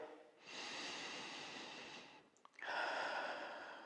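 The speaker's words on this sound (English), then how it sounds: "we're taking some deep breaths here" A person takes slow, deep breaths during a shoulder exercise: two long, close, airy inhale-exhale cycles with a brief pause between them.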